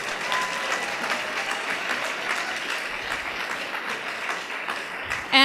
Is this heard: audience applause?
yes